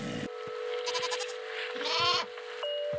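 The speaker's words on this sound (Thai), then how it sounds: "เสียงร้องของแพะน่ารักมาก" A goat in the video game Minecraft bleats in a few short, high wavering calls, fairly clear over a quiet steady in-game tone.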